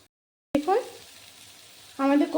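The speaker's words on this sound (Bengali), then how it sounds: "এক সাইড প্রায় লাল করে ভাজা হয়ে গেছে এবার অপর সাইডও আমি একইভাবে ভেজে নেবো" Papaya koftas frying in oil in a pan, a close sizzle that starts abruptly after a brief silence, settles to a steady hiss, then swells louder again as the pieces are turned.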